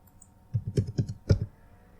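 A short burst of keystrokes on a computer keyboard as a PIN is entered at a Windows sign-in, about six close, crisp clicks in quick succession, then quiet.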